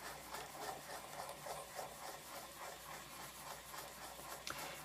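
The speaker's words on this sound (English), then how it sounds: "is that I bring in a toothbrush and I just start to kind of agitate the entire area." A toothbrush scrubs GooGone into sticker residue on a plastic PSP case, making a faint, steady, rapid back-and-forth bristle rub that carries on throughout with no talking.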